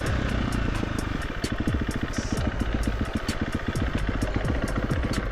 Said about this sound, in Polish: jak wasze dzieciaki jeżdżą na motocyklach półautomatycznych albo automatycznych